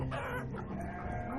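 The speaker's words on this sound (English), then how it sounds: "Chickens." Chickens cluck and a rooster crows in a farm pen within the colony-building game Banished, a dense, steady barnyard chorus running throughout without any talk.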